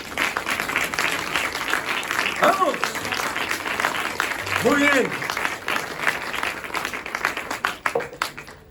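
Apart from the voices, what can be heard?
audience applause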